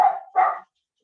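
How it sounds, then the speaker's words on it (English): Two quick barks from a dog, close and fairly loud, followed by silence. "I'd love to know what she's barking at."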